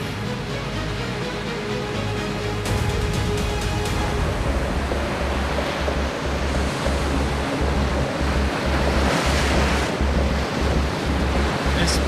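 Ocean waves roll in and crash steadily beside a deep ledge at a fishing spot, with a continuous loud surf wash, gusts of wind on the microphone and a low pulsing rumble, no talking.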